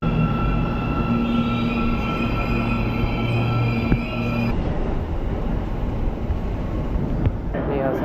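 Almaty metro train running steadily inside the underground system, a loud continuous rumble with tonal whine, easing into quieter rolling noise near the end.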